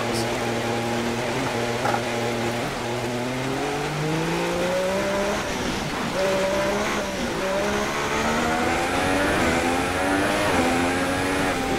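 An F1 racing car engine in rain in the video game F1 2016 drones and shifts pitch continuously as it accelerates and changes gear, loud and steady, with faint tire noise under it.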